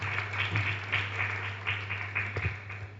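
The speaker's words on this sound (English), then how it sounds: "A round of applause." A crowd applauds steadily for a few seconds, a dense wash of clapping with slight swells, over a low electrical hum.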